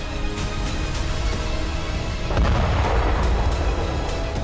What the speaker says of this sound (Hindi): ये मिसाइल धमाका इसी बात का सबूत है।